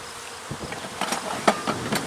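A steady, close buzzing of many honey bees at a hive fills the air, with occasional louder hums and faint knocks as insects move about.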